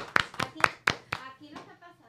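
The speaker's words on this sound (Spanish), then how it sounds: "un aplauso para Rapid Pharma, que siempre están adelante" Audience applause for Rapid Pharma at a medical talk on plastic versus bariatric surgery: a few sharp, separate hand claps near the mic, spaced unevenly, then trailing into faint voices and room noise.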